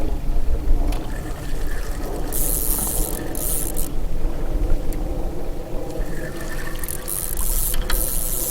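A fishing reel's drag clicks and ratchets steadily as a carp takes line on Lake Mead, a continuous close mechanical whirr over water and outdoor background noise.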